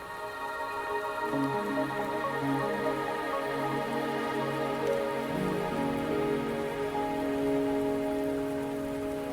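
Steady rain pours down with a dense hiss in the video game Wuthering Waves, accompanied by soft sustained musical tones that shift midway through.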